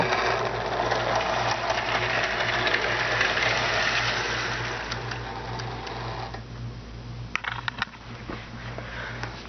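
A model train runs along its track, giving a steady mechanical whir with a low repeating hum and a faint ticking rhythm, fairly close and continuous, fading slightly before a few small clicks near the end.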